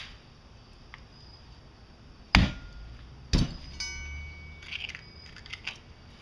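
A steel can crusher flattens a pop can, giving two sharp, close metallic cracks a second apart, followed by a few faint clinks and rattles.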